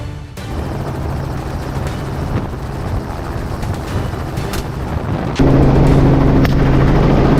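A helicopter flies overhead during a boar hunt in the South, its rotor and engine roar steady and loud throughout, growing slightly stronger near the end, with faint sharp knocks scattered in the din.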